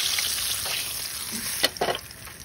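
Flour-coated fish frying in oil makes a faint, steady sizzle with a few brief crackles and pops near the end, and no voices.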